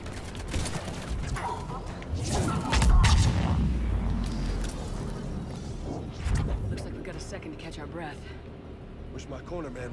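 Gunfire in the video game Mass Effect 3 Legendary Edition, bursts of shots and booming impacts swelling mid-clip and again later, mixed with game effects while people talk over the action.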